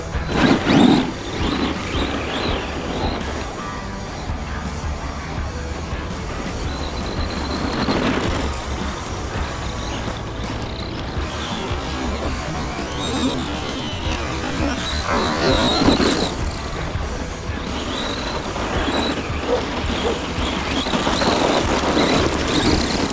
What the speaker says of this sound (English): Look at that car go, it looks awesome.